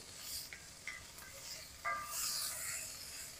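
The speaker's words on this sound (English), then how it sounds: "just kind of wake up the smells of the ginger and just start warming up those carrots" Ginger, carrots and onions warm in a soup pot for carrot and ginger soup, a faint low sizzle with a few light scraping stirs and a slightly louder hiss swelling near the end.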